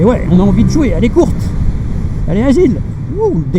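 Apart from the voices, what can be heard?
None of the usual background noises is heard.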